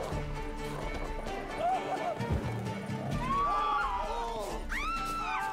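A horse in The Witcher 3 trots with clip-clopping hooves, then lets out sharp whinnies near the end, with background voices and game ambience around it.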